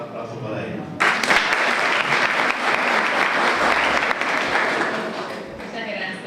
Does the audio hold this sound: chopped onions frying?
no